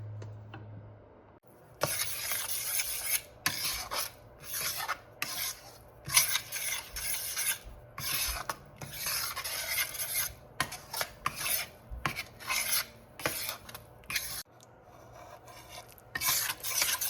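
Flour roasting in ghee for Gujarati sukhdi, stirred with a utensil scraping a pan in repeated rasping strokes, close and steady, with no voices.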